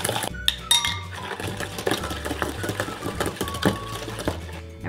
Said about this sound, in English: In a bowl, whisk egg yolks and 1/2 cup of sugar.